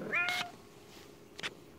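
A pet cat gives one clear meow close by in a quiet indoor room, then makes a softer, brief second sound a moment later.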